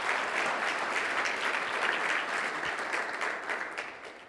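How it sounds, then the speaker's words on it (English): A crowd at a college signing ceremony gives a steady round of applause, dense and even clapping that fills the room from start to finish and only tapers slightly at the end. "With that being said, another big round of applause."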